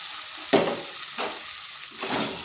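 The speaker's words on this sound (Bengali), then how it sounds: "ভালোভাবে মশলার সাথে মিশিয়ে নিচ্ছি এগুলোকে এটাকে একটু সময় ধরে কষে নিতে হবে" Fried potato and pumpkin pieces stirred into spices in a pan for a vegetarian pumpkin dish with gobindobhog rice, sizzling steadily with three scraping stir strokes, close up and without talk.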